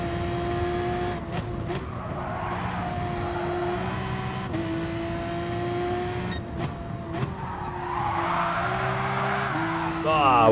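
Race car tyres squeal and scrub as the car drifts on opposite lock at Brands Hatch GP in a racing sim, the engine droning steadily throughout with a rising whine and squeal near the end, loud and close.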